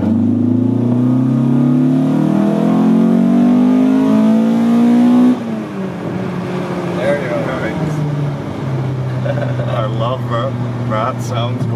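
A 1983 Volkswagen Rabbit GTI engine revving hard toward high rpm, a rising sustained whine and growl that drops after a peak into a rougher idle-like rumble, loud and close, with no speech.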